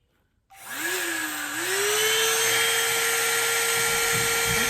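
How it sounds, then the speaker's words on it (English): A Frisky hair dryer brush switches on and runs with a loud, steady whining motor and airflow rush, pitch rising briefly as it spins up, then holding constant to the end. "Because I know y'all don't want to hear this loud blow drying."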